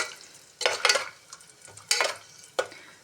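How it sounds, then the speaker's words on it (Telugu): Almonds being fried in a pan for carrot halwa, with sharp bursts of sizzling and scraping as they are stirred, four loud clustered strokes between quieter crackle. "ఇక్కడ నేను బాదం పప్పు వేయించుకుంటున్నాను"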